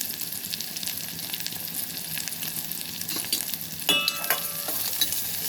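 Brown rice with tomato frying over low heat in a steel pot, a soft steady sizzle with stirring scrapes and a few sharper clinks near the end, close and alone.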